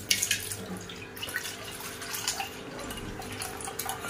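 Milk poured into a pot for carrot halwa, a steady close liquid stream and splashing with small drips throughout, alone without talk.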